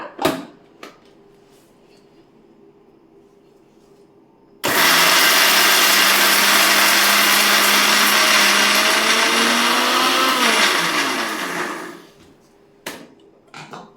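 A kitchen mixer grinder blends bitter gourd into a coarse chutney powder, whirring loudly and continuously for about seven seconds before winding down. Soft handling knocks come before and after.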